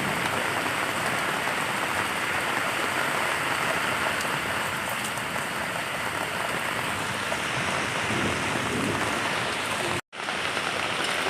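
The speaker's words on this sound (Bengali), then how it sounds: "ঝড় বৃষ্টি হচ্ছে প্রচণ্ড পরিমাণে।" Heavy rain pours during a storm, heard from under an umbrella as a dense, steady hiss of drops drumming on surfaces, loud and unbroken apart from a split-second cut near the end.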